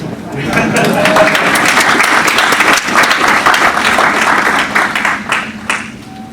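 An audience at a Texas Frightmare Weekend convention Q&A panel breaks into loud, sustained applause lasting several seconds before trailing off, with a voice faintly audible near the end.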